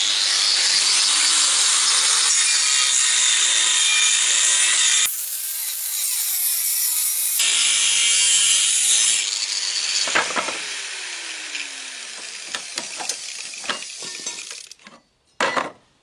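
Scrap sheet metal from a Japanese car bumper is cut with a power tool in a long, loud continuous buzz that changes pitch midway, then gives way to scattered clanks and short bursts of handling noise.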